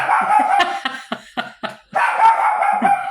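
A dog barks several times close by, a quick run of sharp yips and barks with short gaps between them.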